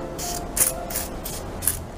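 Evian facial water mist sprayed onto the face in a series of about five short hissing bursts, spaced roughly evenly, close and distinct over faint background noise.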